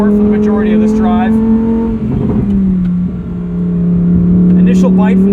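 A 2023 Lamborghini Huracan Tecnica driving in sport mode, its engine holding a loud steady tone that dips briefly and then climbs again, heard from inside with someone talking over it.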